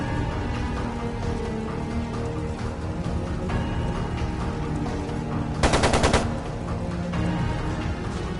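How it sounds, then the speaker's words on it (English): Machine gun fire rings out in The Legend of Heroes: Trails of Cold Steel II over a dense, noisy battle backdrop. A short, sharp rattling burst stands out just past the midpoint. "It sounded like a machine gun."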